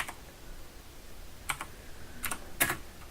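Computer keyboard typing: a few separate soft clicks, then short quick bursts of keystrokes, fairly close and quiet over faint room hiss.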